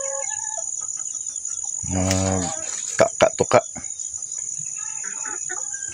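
Free-roaming backyard pet chickens give one drawn-out cluck followed by a quick burst of short, sharp clucks, set over a constant high insect drone, with a brief spoken word nearby.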